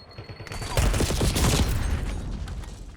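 A Semtex grenade blast and dense gunfire in a Warzone final-circle match, a loud continuous burst of rapid shots and booms filling the clip, with a voice briefly audible underneath.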